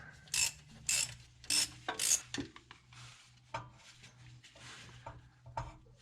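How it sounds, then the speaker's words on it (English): Mounting nuts being loosened on a Model A hot rod rear end, a series of quick ratchet wrench clicks in short bursts with metallic tool clanks and pauses between, close and fairly quiet. "Loosen up the mounting nuts a little more."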